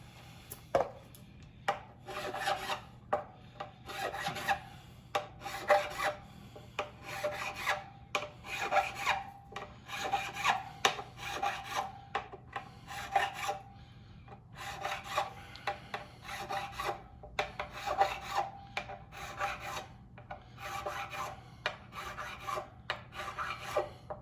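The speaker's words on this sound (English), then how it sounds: "we'll take the file in one motion, go over, and it rounds off" A metal file rasps over electric guitar frets, rounding them off during a fret dressing, in a long run of short, regular strokes that sound close and fairly quiet, with no voices.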